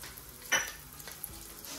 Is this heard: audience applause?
no